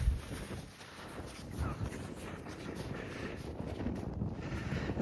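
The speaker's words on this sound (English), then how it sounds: "So it's cold out in the wind." Cold wind blows across open ice at an ice fishing spot, a steady rushing buffet against the microphone that fills the whole stretch at a moderate level.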